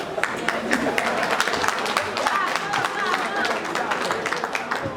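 An audience applauds after a performance of a song, with dense, steady clapping running throughout while voices carry over the top.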